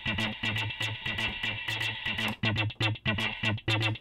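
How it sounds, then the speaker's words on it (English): Omni-X V2 synth playing its Choppy Waters patch, a mid-range, light-bass tone in clipped, rhythmic stabs with reverb tails, repeating steadily and alone. "Choppy Waters, I love this because it has a nice mid-range frequency, not a lot of low end, and the mod wheel is set up to do really cool reverb."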